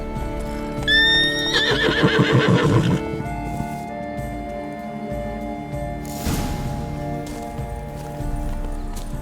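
A horse neighs loudly up close in The Witcher III, a whinny with falling pitch followed by a snort, set over steady ambient music with a later swell of noise.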